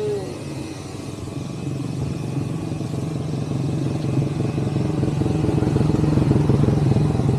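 A Honda 110cc motorcycle idles steadily while being rolled backward, its low engine rumble and light mechanical clatter continuous and growing slightly louder throughout.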